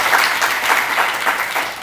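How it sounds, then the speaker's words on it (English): Sustained applause from a brunch audience, dense steady clapping filling the room from start to finish with no pauses. "Can you give everybody a round of applause?"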